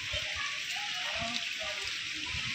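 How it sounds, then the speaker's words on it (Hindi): Heavy rain pours steadily on a flooded street, a constant dense hiss of water with splashing and gushing, while voices talk faintly underneath. "बारिश बड़ी तेज हो रही है।"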